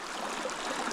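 Clear, cold mountain stream water flowing steadily, a soft continuous rushing and trickling hiss heard close by, with no voices.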